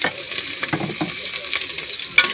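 Adobo with bamboo shoots stirred in a pan, short scraping and sizzling strokes over a soft frying hiss, close up, with no one talking.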